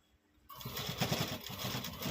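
A sewing machine stitching denim jeans starts up after a brief quiet moment and runs in a fast, steady mechanical chatter close by for the rest of the moment.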